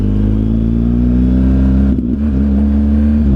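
A BMW R1200 GSA motorcycle engine holds a loud, steady drone close by, then dips briefly for a gear change before settling back into its even hum.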